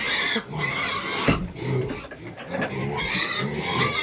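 Piglets squeal and grunt in near-continuous bursts, loud and close, with brief scuffling between cries.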